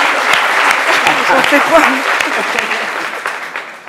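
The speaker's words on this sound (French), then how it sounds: "Allez, on l'applaudit pour l'encourager." Studio audience applauding on a French midday TV show, a loud dense burst of clapping that slowly tapers off, with a voice speaking over it.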